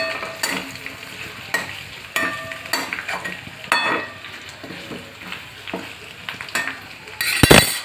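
Paneer bhaji sautéed and stirred in a pan, with repeated scraping strokes of a spoon against the metal and a soft sizzle underneath, ending in a sharp clattering clink near the close.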